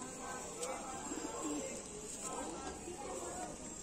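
Pigeons cooing at a loft with several birds of a local breed, soft low murmuring coos running steadily through the background under nearby talk.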